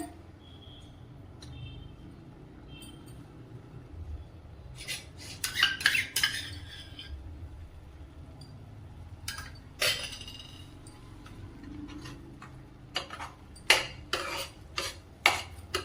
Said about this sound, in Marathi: अशा पद्धतीने हा बारीक वाटून घेतलेला मसाला त्यामध्ये छान असा परतून घेऊया